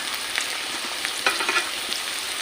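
Fried onions crackling softly in a pan for a mutton curry, a steady low sizzle broken by a few spoon scrapes, with no one speaking.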